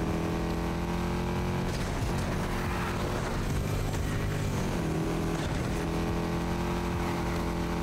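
A V8 engine in Need for Speed Heat, droning loud and steady with a deep, rich rumble and shifting revs that rise and fall throughout.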